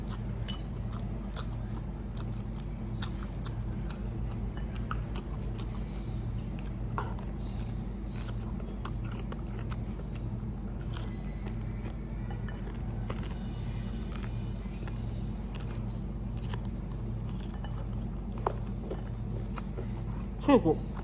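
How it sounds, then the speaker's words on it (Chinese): Someone chews crunchy cartilage from stewed beef bones, giving close, irregular crunches and wet bites over a steady low background hum, with faint voices nearby. "脆骨，嘎吱脆。"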